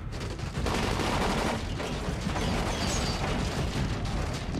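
Rapid gunshots during a boss fight in the game Dying Light, a dense, steady barrage of overlapping shots and mechanical clatter lasting several seconds at a fairly constant level.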